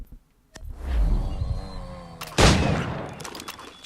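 Gunfire in Assassin's Creed III Remastered, a sustained rumbling volley followed by a sharp louder burst and continuing crackle, with no talking.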